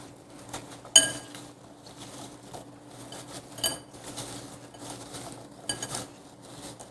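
Apple pie filling being stirred in a bowl, with a utensil clinking and scraping against the sides in irregular bursts, close and moderately loud, with no one talking.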